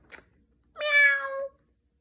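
A single clear cat meow, drawn out and tonal, heard alone after a brief soft click, with silence around it.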